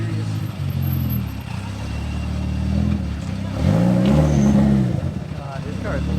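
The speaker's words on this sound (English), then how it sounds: "God, this car is loud." A Subaru WRX fitted with a hood exit exhaust and wastegate revs loudly from inside the cabin, its low engine drone rising and falling across several throttle blips. People talk over the sound.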